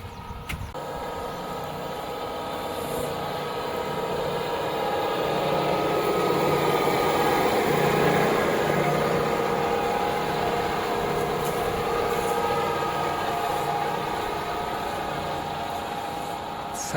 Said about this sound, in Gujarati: આવી રીતે ચાલી રહ્યું છે આપણું ઇલેક્ટ્રિક ટ્રેક્ટર